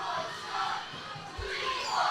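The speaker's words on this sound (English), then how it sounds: "That crowd, once again, gentlemen, wants Scott." A wrestling crowd at an IZW indoor show shouts and roars, a dense wash of voices that swells and dips over a couple of seconds.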